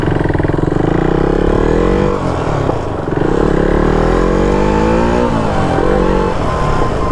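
A KTM Duke motorcycle engine revs loudly and up close, holding a continuous roar with a few swells in pitch and no talking over it.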